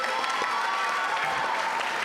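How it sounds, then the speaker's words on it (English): Quiz-show audience applauds contestants at a national Bible contest finals ceremony, a dense, even burst of clapping across the whole stretch with faint cheering mixed in. "Give them a round of applause."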